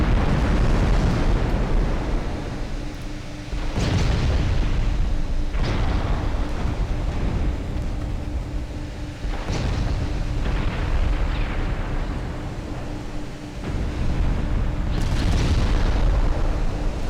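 Deep, rumbling explosions from a ship's magazine detonating in a naval battle of a Greek campaign strategy game, a loud, sustained roar with several heavy booms swelling and fading, no talking.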